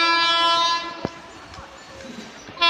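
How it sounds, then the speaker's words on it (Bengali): Amrit Bharat Express from Anand Vihar Terminal to Howrah, hauled by a WAP-7 electric locomotive, sounds a long, loud multi-tone horn as it passes Chandannagar station, with a brief thump and rumble of the passing train between horn blasts. "এখন যাবে অমৃত ভারত, যেটা আনন্দ বিহার টার্মিনাল টু হাওড়া যাবার।"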